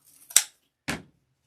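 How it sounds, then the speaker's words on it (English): Two sharp snips of scissors cutting deco mesh garland, a quick crisp cut followed half a second later by a second duller one, close and alone with no talking. "I'm going to cut that off just a little short."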